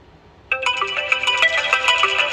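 An iPhone incoming-call ringtone starts abruptly after a brief quiet moment and keeps playing loud and close, a bright repeating electronic melody of chiming tones.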